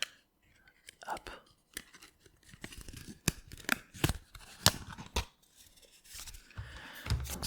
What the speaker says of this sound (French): je vais découper un plateau pour vous montrer